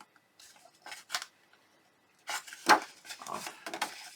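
Scissors trimming a milk carton into a treat box, a few soft snips at first, then a denser run of close cutting and crinkling sounds.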